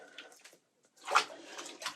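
Water draining from a bathroom sink after a wet shave with a vintage Gillette Flair Tip Super Speed razor, gurgling and sloshing in uneven bursts with a short quiet gap, close and fairly soft.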